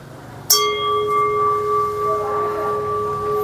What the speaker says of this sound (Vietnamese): Cái tiếng ngân nó vang xa lắm mọi người